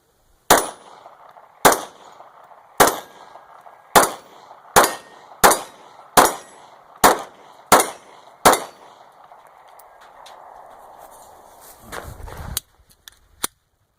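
Ten sharp, loud Glock 26 9mm Gen 4 compact pistol shots fire in a steady rhythm at an outdoor range, each with a ringing tail, followed by a pause and a final few clattering handling sounds.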